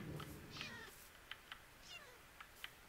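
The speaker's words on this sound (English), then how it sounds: "I hate the sound of cats dying." Faint, high meows repeat several times at irregular intervals, small and distant-sounding, with short clicks between them and no talking.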